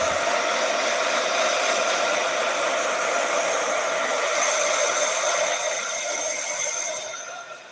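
Hair dryer blowing steadily to quickly dry paint on a thrift-store box craft project, a loud, even airy whoosh with a constant hum that fades slightly near the end.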